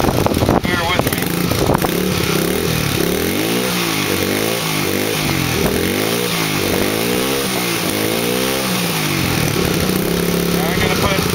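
A 125 cc dirt bike engine runs loud and steady throughout, its two-stroke buzz rising and falling in a repeated pattern of short revs, with an earlier sputtering start.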